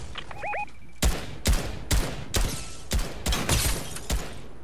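Gunfire striking the player in Fortnite: a faint electronic chirp, then a series of sharp, loud shot impacts arriving in an uneven rhythm about every half second.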